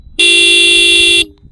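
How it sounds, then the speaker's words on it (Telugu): Horn of a TVS Apache RTR 310 motorcycle sounding one loud, steady blast of about a second, ringing briefly before cutting off, heard alone up close. "ఒకసారి బైక్ హార్న్ ఎలా ఉందో ఒకసారి చూద్దాం."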